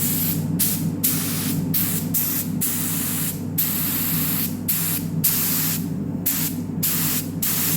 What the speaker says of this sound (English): I've put a bit of thinners into the gun, and we'll give it a try out in the spray booth.